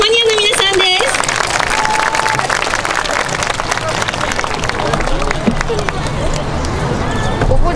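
Dense outdoor crowd applause and cheering for the YOSAKOI dance team Honiya at the 2019 Senshu YOSAKOI Eejanaika festival's stone-stage venue. Loud, continuous clapping with crowd noise and voices mixed in throughout.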